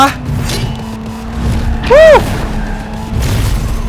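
Gunfire in Cyberpunk 2077, a sharp burst near the two-second mark standing out over a steady game hum, with a voice talking excitedly around it.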